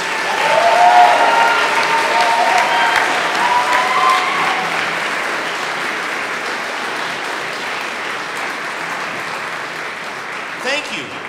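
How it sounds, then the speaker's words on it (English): A Christmas concert crowd applauds steadily, loud at first and slowly thinning out over about ten seconds. "I'd invite you to join me in giving a round of applause to Kaylee and Brenda for their leadership"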